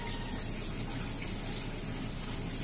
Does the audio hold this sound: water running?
yes